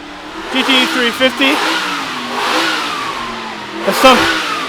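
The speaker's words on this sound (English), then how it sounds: "I apologize if you can't hear me over the noise of all the engines" Several loud classic race car engines, including an old GT350, rev and roar close by at a car festival, pitch rising and falling in waves, with a voice talking underneath.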